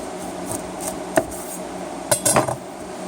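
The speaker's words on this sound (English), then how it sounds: "And you just cut down through the middle." A knife slices down through a spaghetti squash, producing a few sharp knocks and clacks against the cutting board, with a quick cluster of cracking taps toward the end amid quiet room tone.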